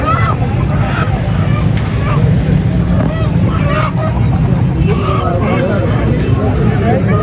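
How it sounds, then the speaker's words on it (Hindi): Weekly Friday bazaar chicken market, a steady crowd hubbub of many voices with traffic noise and occasional honking fowl calls mixed in, continuous and fairly loud throughout. "ये जुम्मा बाज़ार में लगती है मुर्गियों की मंडी।"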